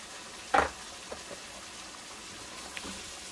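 Liver fries quietly in a pan with a soft, steady sizzle, broken by one sharp crackling pop and a few faint spits.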